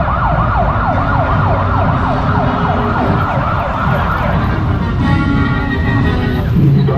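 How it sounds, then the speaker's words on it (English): Wailing police sirens sweep up and down repeatedly over a dense, loud background of traffic and crowd noise at a St. Patrick's Day parade in Wilmington, continuing throughout. "there's a whole lot of police sirens and bands and all sorts of stuff going on."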